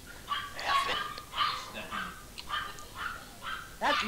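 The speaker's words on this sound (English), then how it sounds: "The dogs are unleashed." Dog barks and yips in a Garry's Mod Prop Hunt game, several sharp calls spread across the moment at moderate level, with faint game ambience beneath and no talking.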